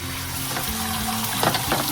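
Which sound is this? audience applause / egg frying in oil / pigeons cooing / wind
egg frying in oil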